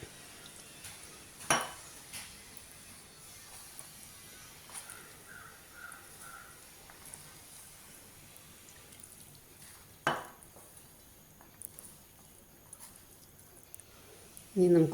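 A spoon scrapes and clinks against a bowl while a sweet potato snack mixture is stirred, quiet soft mixing with a few sharp knocks and clinks spread out, the last one loud at the very end.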